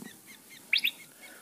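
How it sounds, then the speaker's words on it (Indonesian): A sooty-headed bulbul gives a single short, bright phrase of two quick chirps, ringing out clearly against a quiet background, once and then silence. "Ini adalah burung cucak Jawa atau yang biasa disebut"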